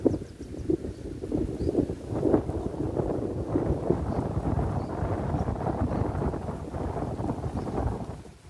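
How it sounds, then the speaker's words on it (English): Wind blowing at a river mouth near a marine area, buffeting the microphone as a steady rumbling gust with choppy low-frequency bursts, loud and close, lasting throughout with no talk. "Is the wind bad? I know it's coming straight on."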